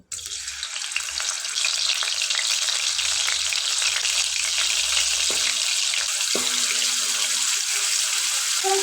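Paneer masala frying in hot oil makes a loud, continuous hiss that grows fuller after the first second, with a couple of brief clinks near the end and no voices.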